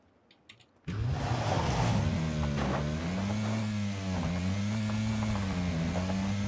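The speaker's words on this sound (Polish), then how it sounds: "Chyba wejdę do samochodu, wiecie?" A car engine in the PUBG video game starts abruptly and then runs steadily, a loud droning hum with a slight rising rev that stays constant to the end.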